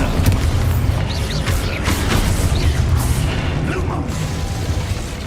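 Expulso spell blast in the Hogwarts Legacy video game, a dense booming burst with crackling debris and rumble over continuous battle noise, loud and close.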